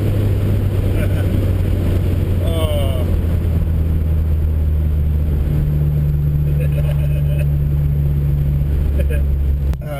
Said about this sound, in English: It'd be alright to put some boost into it now